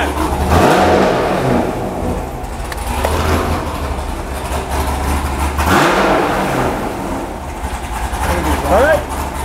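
A modified Corvette Z06 V8 rumbles loud and close, revving up in surges over a rough idle, with voices heard alongside.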